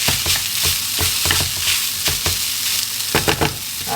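Sausage sizzles and spits loudly in a frying pan, a dense continuous crackle with bursts of sharper pops as it is stirred, close up and with no voices.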